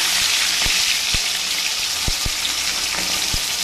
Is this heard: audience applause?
no